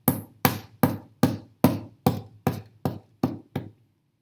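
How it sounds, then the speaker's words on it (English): A hammer strikes a lab sample, substance E, crushing it toward powder: ten sharp, evenly spaced knocks in quick succession, close and clear, each fading slightly softer toward the end. "we'll do the crushing test with the hammer"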